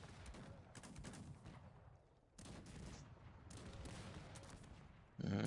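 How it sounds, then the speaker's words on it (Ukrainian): Repeated heavy booming howitzer artillery blasts in a video game, with bursts of rumbling gunfire, fairly distant and continuous, then a louder blast near the end. "Ах, гаубиці як. Накидають."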